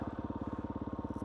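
A 2011–12 KTM SX-F 350 off-road motorcycle engine runs close by in a steady, rapid pulsing rhythm, like a brisk idle, loud and unaccompanied for a brief moment.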